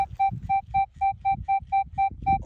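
A metal detector sweeping a farm field gives a strong, steady signal: a rapid series of about ten identical electronic beeps in an even rhythm, loud and close, over faint low background rumble.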